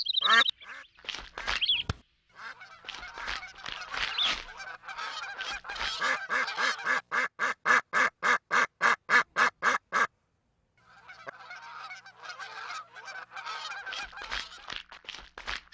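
A flock of cartoon geese or ducks honks in a quick, busy burst, then a long run of regular rhythmic honks, a brief silence, and more scattered honking, clear and fairly close.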